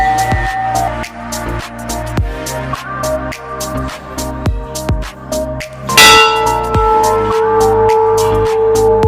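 A temple bell rings repeatedly at Maa Baarahi Dham in a steady stream of bright metallic strikes with long overlapping resonance, joined by a louder, sustained ringing tone toward the end.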